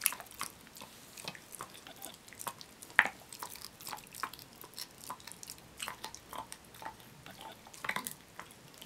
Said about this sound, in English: So it'll take quite a bit of chewing to get these broken down small enough.